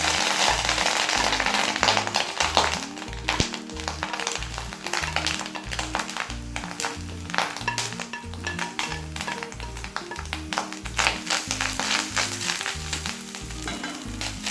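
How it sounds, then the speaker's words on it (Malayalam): Spices and asafoetida frying together in a hot pan for Malabar sambar, giving a steady crackling sizzle with irregular pops and stirring scrapes throughout, close and fairly loud, with no talking. "ഞാൻ ഇതിലേക്ക് തന്നെ നമ്മൾ എടുത്തു വെച്ചിരിക്കുന്ന ആ കൂട്ടുകളുണ്ടല്ലോ എല്ലാം കൂടി ഇട്ടിട്ട് വറക്കുക കേട്ടോ"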